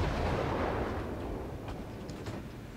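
Destroyer guns firing in World of Warships aboard the tier 7 USS Sims, heard as a loud, dense, rumbling roar of naval gunfire that fades slowly, with a few faint sharp reports near the end.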